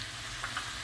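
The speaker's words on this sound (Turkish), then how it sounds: "Karıştırarak patlıcanlarımızla birlikte kıymanın biraz kavrulmasını bekliyoruz." Minced meat and chopped eggplant sizzling steadily in a hot pan, a constant close frying hiss with a couple of faint stirring scrapes, no voices.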